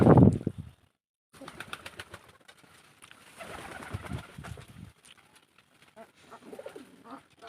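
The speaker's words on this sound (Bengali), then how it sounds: "আমার সম্পূর্ণ কবুতর খামার আপনাদের সামনে আজকে তুলে ধরছি।" Domestic pigeons coo softly inside a pigeon farm, a close low burbling after a brief loud thump and a short silence, with faint rustling in between.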